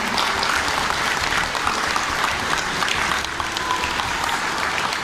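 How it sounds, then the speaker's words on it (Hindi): A crowd at a political caste community conference applauds a member of parliament with continuous dense clapping, loud and sustained throughout, with no voices standing out. "दिल खोल करके ताली बजाई जाए"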